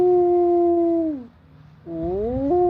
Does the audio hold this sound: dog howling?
yes